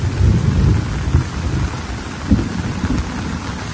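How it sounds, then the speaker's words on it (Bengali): Steady rain pours over a garden house during a wet holiday, with low rumbling thunder rolling through the wash and a louder swell near the middle; no voices. "এখনো সেই বৃষ্টি আছে"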